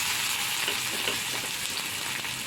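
Chopped onion sizzles in a frying pan with a thick, continuous hiss. Soft stirring scrapes sit close underneath.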